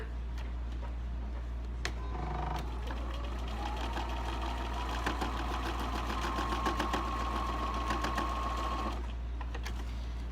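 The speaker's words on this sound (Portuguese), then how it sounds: "e agora eu vou costurar daqui até aqui" A sewing machine stitching a seam through fabric, a steady close whirr with fine rapid ticking over constant low background hum, running for several seconds before stopping.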